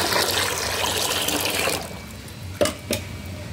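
Water from a pot pours steadily into a container of spoiled mango pieces for a fermented plant liquid, a full splashing stream that thins out, then a couple of sharp knocks.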